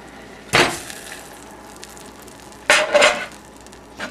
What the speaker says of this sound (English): once the butter starts boiling, you can add the sugar